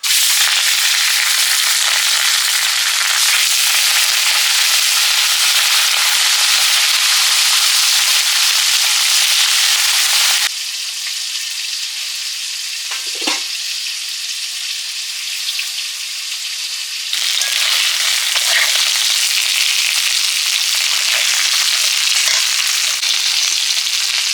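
Rupapatia fish frying in oil in a pan, a loud, continuous crackling sizzle close up that dips quieter for several seconds midway before swelling again, with no talking.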